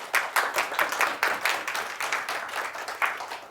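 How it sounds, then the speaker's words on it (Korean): Audience clapping at a health lecture: a steady wash of many hands applauding together, moderately loud and sustained with slight swells, with no talking over it. "가능하다면 박수 한번 쳐보세요."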